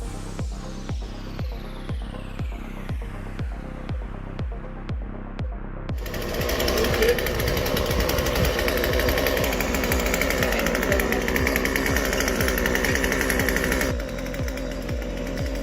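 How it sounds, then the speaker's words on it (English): A chainsaw cutting a tree, first a rhythmic series of sharp mechanical pulses, then the engine roaring steadily and loudly for several seconds before dropping back to the pulsing idle. "using a chainsaw with one hand while balanced on a ladder"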